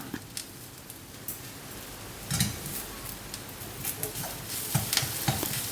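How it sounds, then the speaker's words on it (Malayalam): Drumstick leaf thoran, moringa leaves with turmeric and salt, frying in a pan while a spoon stirs it: a steady soft sizzle with intermittent scraping stirs close by, and no voices. "ഇളക്കാം വീണ്ടും നന്നായിട്ട് ഇളക്കാം"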